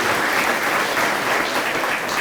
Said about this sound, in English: please help me give a round of applause for Granbury's Mayor, Jim Jarrett, is in the house